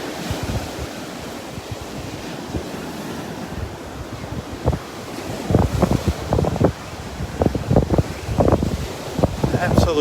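Surf washes onto a sunny beach in North Naples, Florida, a soft continuous wash with steady wind noise and a few louder breaking pulses toward the end.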